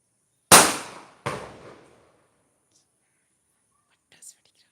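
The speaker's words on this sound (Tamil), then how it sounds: "பட்டாசு வெடிக்கிறாங்க." Two firecrackers burst outside in quick succession, sharp loud cracks that decay quickly, followed after a pause by a faint distant pop.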